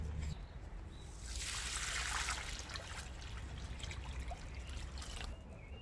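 Water is poured from a container onto a newly planted garden plant, a soft trickling and splashing stream that swells in the middle and tapers off, fairly faint.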